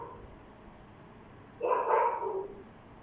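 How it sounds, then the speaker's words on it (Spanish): A dog barks in the background through an open microphone during an online call, one brief, muffled, moderately loud outburst over faint room noise. "se oye un perro"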